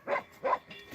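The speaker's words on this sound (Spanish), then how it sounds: "Mira cómo viene la vaca al perro." Two sharp dog barks close by with a fainter third yelp, outdoors on a farm as a cow approaches the dog.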